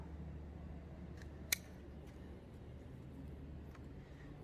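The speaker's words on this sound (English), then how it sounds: "now first I have to trim this. So I will start from the top" Scissors trim the branches of a ficus bonsai growing over a Buddha head: one sharp, close snip stands out, with a few fainter clicks against a low, steady background hum.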